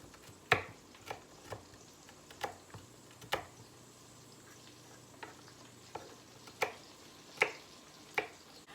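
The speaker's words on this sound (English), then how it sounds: "Let's cut up our garlic, kind of mince it." Kitchen knife mincing garlic on a cutting board for a tortellini vegetable soup, with light, sparse chopping taps at an irregular pace, quiet and close.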